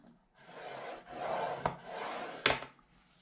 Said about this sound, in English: Then I'm going to rotate it 1 turn, and we're going to score this at 4